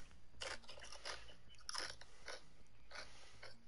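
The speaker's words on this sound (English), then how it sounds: "She's just munching over here," A person munches loudly on something crunchy close to the microphone, giving about six sharp crackling bites and chews in an uneven rhythm over a quiet background.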